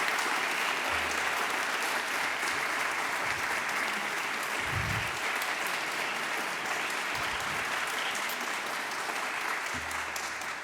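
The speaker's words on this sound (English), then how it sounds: "Let's give a round of applause for our new members." An audience gives sustained, even applause at a ceremony welcoming new members. The dense clapping carries on without letup for about ten seconds, with only faint sounds beneath it.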